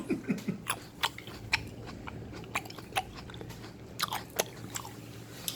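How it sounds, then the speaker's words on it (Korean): Crunchy seedless Black Adora grapes, eaten with the skin on, are chewed close up, giving a steady run of crisp bites and wet crunches with no talking. "저희가 한번 먹어봤는데 진짜 아삭아삭한 거 이런 거 한번 다시 한번 아삭아삭한 거 소리 한번 들어볼까요?"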